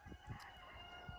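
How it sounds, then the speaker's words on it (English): Roosters in a backyard garden crow faintly in the distance, with a few short calls rising over a quiet, steady outdoor background and no talking. "don't mind the roosters"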